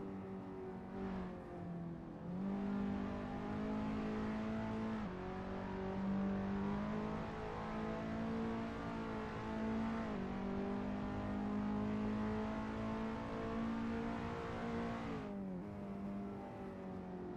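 Skip Barber race cars in Assetto Corsa scream steadily through the Mugello corners, engines rising in pitch with gear shifts and throttle lifts, a continuous loud drone with no voices.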